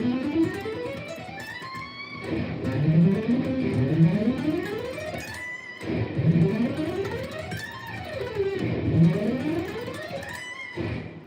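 Fast legato guitar run on a guitar tuned in fourths and fifths, four notes per string, sweeping up and down in repeating rising and falling patterns through a light effects unit, played alone and fairly loud.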